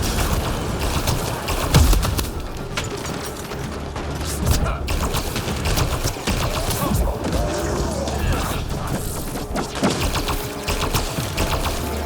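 Mass Effect Andromeda combat against Ket fiends and wraiths: loud, dense rapid gunfire and impacts crackle continuously, mixed with mechanical clatter and game effects, with a voice talking over it.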